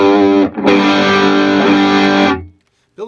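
A black-panel Magnatone guitar amp pushed into preamp distortion rings out as one sustained, heavily overdriven chord after a brief pick attack, loud and dense, then cuts off abruptly into silence.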